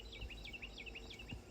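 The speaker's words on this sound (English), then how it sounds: "Oh, listen to the birds" Birds sing outdoors near a farm with a herd of cows, a repeated series of quick, faint chirping notes in a steady rhythm at a distance over a low rural background hum.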